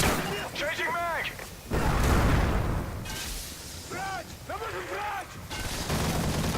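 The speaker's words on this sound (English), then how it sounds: "Sentry is taking heavy fire." Heavy gunfire erupts in a wave-survival match of the shooter Modern Warfare 3, loud crackling bursts and booming shots in rapid volleys, with a character's voice speaking in short radio-style callouts between them.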